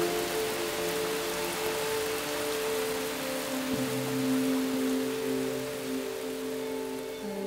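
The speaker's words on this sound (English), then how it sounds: "heavy rain falls in summer, even on the deep inland Yunnan Guizhou Plateau" Heavy summer monsoon rain on the inland Yunnan Guizhou Plateau, a steady dense hiss of downpour throughout, with faint low tonal hum lines running beneath it and no voices.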